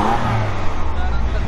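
A car with a 3-litre, 450-horsepower engine revs and accelerates, a loud sustained engine roar heard close, with voices talking over it.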